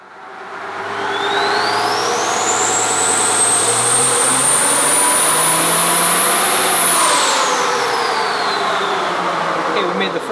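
A turbocharged 5.9 diesel engine pulling hard on a dyno, with a loud rising turbo whistle that climbs, holds high for several seconds and then drops, over a deep steady engine roar.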